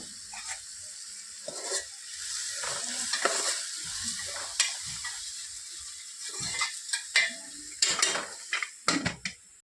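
Salted spice masala for green corn chevdo sizzles in a pan over a low flame. Irregular stirring scrapes and clatters sound close up over a steady frying hiss.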